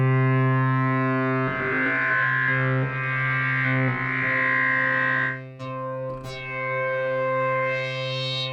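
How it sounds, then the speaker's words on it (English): DSI Poly Evolver synthesizer sustaining a thick, harmonically rich tone as tuned feedback builds into gnarly distortion, with swelling, shifting overtones and a couple of sharp sweeping spikes near the end, loud and continuous without speech. "so that can get pretty gnarly as you bring up the feedback"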